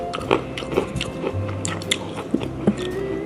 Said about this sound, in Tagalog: Tapos malutong na malutong yung macadamia.